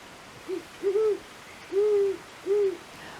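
An owl hoots four times in a slow, uneven series of clear, mid-pitched calls, the longer hoots sliding slightly, heard alone against a faint background hiss.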